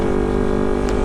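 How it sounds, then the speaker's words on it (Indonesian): An older carbureted Kawasaki Ninja 250 motorcycle fitted with a Termignoni megaphone exhaust idles close and loud, a continuous droning rumble of even engine pulses. "Jadi memang lumayan berisik banget nih suara knalpot."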